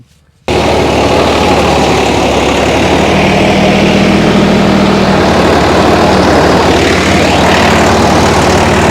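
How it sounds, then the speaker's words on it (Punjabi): A 50 HP tractor pulls a super seeder in its lowest gear, a loud, close, steady engine drone that kicks in abruptly after a short silence and runs evenly without pause. "ਸੁਪਰ ਸੀਟਰ ਵਾਲੀ ਸਪੀਡ ਤੇ ਚੱਲ ਰਿਹਾ ਇਹ ਟਰੈਕਟਰ ਜਮਾ ਜਿਹੜਾ ਸਭ ਤੋਂ ਲੋ ਗੇਅਰ ਆ ਉਹਦੇ ਵਿੱਚ ਚੱਲ ਰਿਹਾ"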